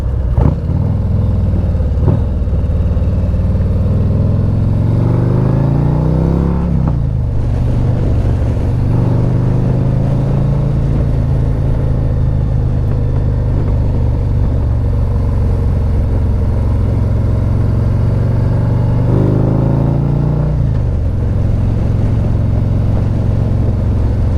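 A 2024 Harley-Davidson Street Glide fitted with a Stage Two kit roars close and loud, its engine surging through rising revs and shifts on a winding road.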